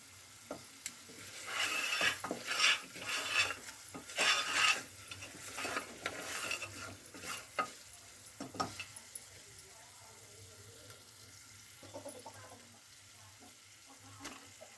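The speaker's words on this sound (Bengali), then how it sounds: "আলুগুলো দেওয়ার পর আবারও আমি কষিয়ে নিচ্ছি।" Meat and fried potatoes being stirred and sautéed with spices in a pan for a Ramadan goshto dish, giving close scraping, stirring clatter and a soft sizzle, busiest early and thinning toward the end, with no talking.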